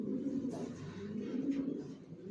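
Vaccinated, leg-tagged racer pigeon chicks of a Johnson long-line coo softly in a low rolling murmur, close by and faint, with a few quiet rustles.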